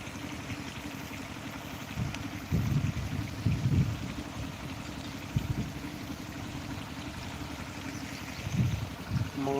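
Running water from an irrigation pump on a farm, a steady low rushing and splashing flow heard from nearby, with occasional louder gushing surges rising over the continuous wash.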